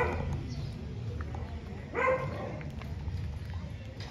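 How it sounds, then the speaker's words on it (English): A dog barks in an old neighborhood of Chapala Centro while someone walks down steps to the street, with a short burst near the middle over steady street ambience and footsteps. "Dog barking at me."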